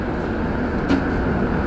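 The last morning train on the Montreal metro Green Line runs with a steady rumbling drone and rattle, a brief faint squeal or clunk in the middle, and no voices.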